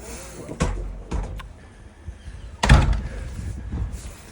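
A door closes in a large chapel with a couple of sharp knocks and then a heavy thud, followed by a reverberant room tone that lingers, with no talking over it.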